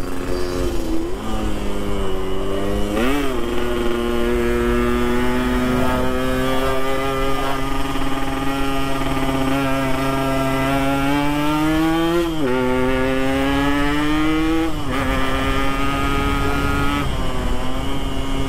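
A stock Yamaha RX King motorcycle runs at speed on a street in Makassar. The engine sounds loud, close and continuous, and its pitch rises and falls through several gear changes.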